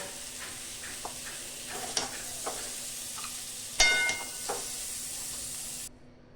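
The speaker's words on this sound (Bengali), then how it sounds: "পটলগুলো ভালো করে লাল করে ভাজা হয়ে গেছে" Pointed gourd frying in hot oil in a wok: a close, steady sizzle with a few soft clinks of a stirring utensil, cutting off abruptly just before the end.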